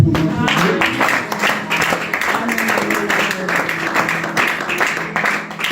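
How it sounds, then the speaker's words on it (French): A church congregation applauds during a Sunday worship service, with dense clapping sustained at steady volume throughout and voices mixed in beneath it. "On peut applaudir pour notre Dieu."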